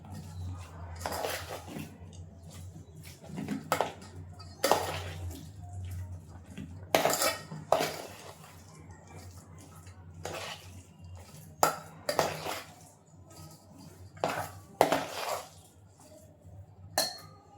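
Mashed potato filling for aloo paratha being mixed in a bowl, with repeated clinks and scrapes of a spoon against the dish in irregular bursts, fairly close.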